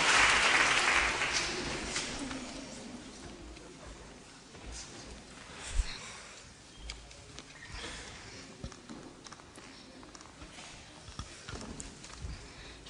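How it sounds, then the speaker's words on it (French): Audience applause at an Armistice Day commemoration, scattered clapping from an outdoor crowd that starts louder and thins into sparse, uneven claps over several seconds. "Applaudissements pour Iman."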